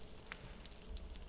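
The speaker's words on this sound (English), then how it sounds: "Wait for that to sizzle." Soft, steady sizzling like food frying in a pan in the video game Enshrouded, a faint continuous crackle with a few brief ticks, quiet and close.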